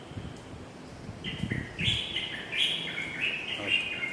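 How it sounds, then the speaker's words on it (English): A bird calls repeatedly outdoors in a steady run of bright, chirping phrases, fairly close and clear, with low rumbling background noise underneath. "can you hear the bird at my back?"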